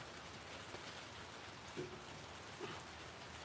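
Steady rain falls at a lakeside spot, a soft continuous patter and hiss with a couple of slightly louder drops standing out, no voices.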